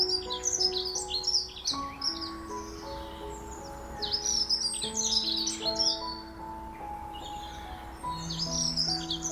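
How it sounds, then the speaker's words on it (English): Several birds chirp and trill in a garden at an early hour, overlapping bright tweets and song phrases running continuously at moderate volume with no talking. "there's a flutter in the trees, a whisper of wings, a trill of song"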